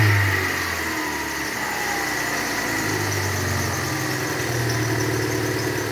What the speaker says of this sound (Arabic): طبعا هاي داعس بنزين لأنه ما عندي حدا والله.